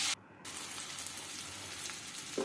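Jackfruit seeds, boiled beforehand, fry in a pan with a steady, dense sizzle that holds throughout, briefly dipping near the start and swelling slightly at the end.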